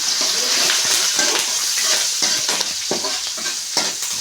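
Spices like turmeric and chili powder being stirred into food frying with curry leaves in a pan, a steady close sizzle broken by repeated scraping spoon strokes, with no talking.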